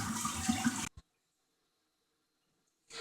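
A Kohler Pompton toilet flushing while clogged, a loud rush of water that cuts off abruptly, followed by near silence and a short faint burst of water at the end.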